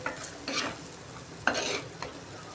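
Chicken curry masala is stirred and fried in a pot, with a soft sizzle running under several scraping, swishing strokes of the spoon that come at an irregular pace.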